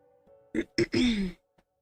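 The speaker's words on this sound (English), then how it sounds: "I'm gonna try not to clear my throat too much while on stream" A person clears their throat up close in a few quick, rough bursts, ending with a drawn-out rasp.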